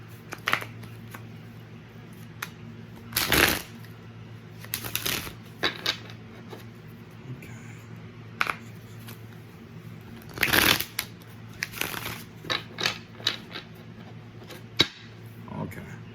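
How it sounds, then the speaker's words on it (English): Tarot cards shuffled in a small room, riffling in a few loud bursts spaced apart with lighter flicks and taps between, close to the listener over a low steady hum. "Let's shuffle these here."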